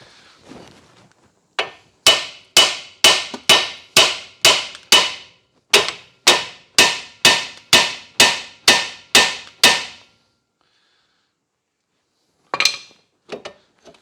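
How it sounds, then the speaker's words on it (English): Hammer strikes on the lower suspension ball joint taper of a Ford Focus, loud and close: about fifteen sharp metallic blows in a steady rhythm, then a brief pause and a couple of last hits. "strike this area here with the hammer"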